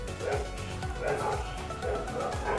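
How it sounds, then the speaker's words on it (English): Several dogs bark indoors in a steady run of repeated yips and bow-wows at moderate distance, with a hint of whimpering. No voices accompany them. "Good timing, my dogs are barking."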